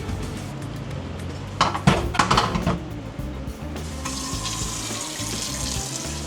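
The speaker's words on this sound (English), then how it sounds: "gonna get some water in here first" Kitchen sink tap running water into a pot, a steady broadband rush with a brief clatter of the pot partway through, then a brighter, fuller stream as it fills.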